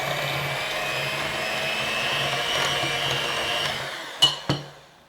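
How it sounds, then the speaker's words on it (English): An electric hand mixer creams sugar and melted butter in a bowl, a steady whirring motor drone held for about four seconds. Two sharp knocks follow as the beaters tap the bowl, with no talking. "And then with a hand mixer, or you could use just your wooden spoon or something,"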